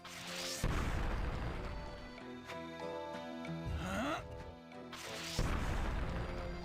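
A barrel explodes in the Radiant Historia video game. Two loud crashing bursts of noise stand about five seconds apart, with a layered game soundtrack and effects running between them.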